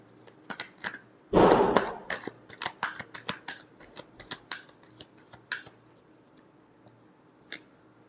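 Tarot cards are shuffled up close in a fast riffle, followed by scattered sharp flicks and taps that thin out toward the end, with no talking.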